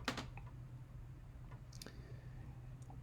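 Quiet clicks of typing on a computer keyboard, a few scattered keystrokes over a low background hum.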